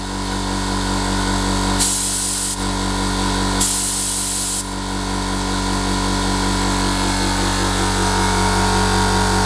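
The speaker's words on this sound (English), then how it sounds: "And when I press it, it releases a lot of air." A cheap Amazon air compressor drones steadily while its spray gun releases two sharp, loud hisses of compressed air, each lasting about a second, with the motor running throughout.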